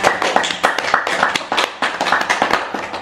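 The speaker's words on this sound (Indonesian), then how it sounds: "tepuk tangan buat kalian semua" A classroom gives a student group a round of applause, with dense, lively hand clapping from many people, loud and close, keeping steady for the whole stretch.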